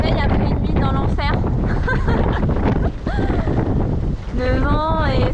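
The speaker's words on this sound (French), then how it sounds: "Le vent est stable autour de 20 nœuds" Strong wind roars steadily over a Mini 6.50 sailboat at sea in about 20 knots, a dense rushing blast with water noise, with a voice talking over it throughout.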